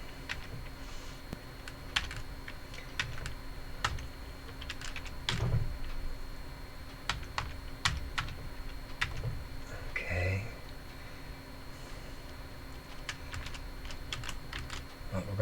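A password being typed on a computer keyboard: quick irregular bursts of close key clicks with short pauses between them, fairly quiet against a faint steady background hum.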